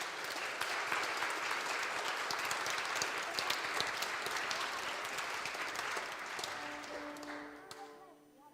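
Dense audience applause at a cello quartet concert fills the room steadily for about seven seconds, then thins and fades as sustained cello notes begin to sound.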